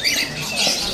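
Gelatik belong birds, sold in pairs, give a quick run of high, squeaky chirps at close range for about a second.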